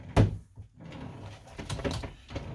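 A wooden drawer is pushed shut with one sharp knock near the start, followed by softer rustling and small handling clicks at close range; no one speaks.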